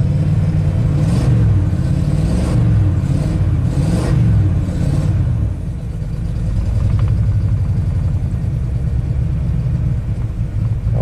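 A rebuilt Ford big block V8 runs loud and close, opening with a few quick revs over a lumpy rumble, then settling into a steady idle with no talk.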